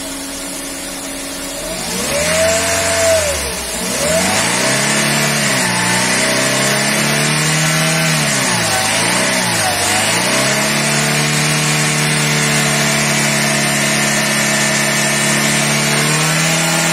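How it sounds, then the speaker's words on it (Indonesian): A Daihatsu Luxio engine idles close and loud, then rises and falls as the throttle is blipped several times, with rhythmic swells in pitch before settling back to a steady idle. "Kita gas ya, kita akan memblayer gas."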